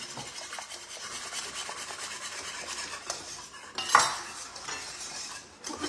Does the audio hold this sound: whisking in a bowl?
yes